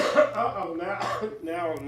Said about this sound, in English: the coughing's starting